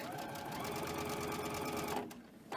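A sewing machine runs in a fast, even mechanical rattle while piecing cotton quilt strips, then stops with a brief pause and a short restart, close and clear with no talking.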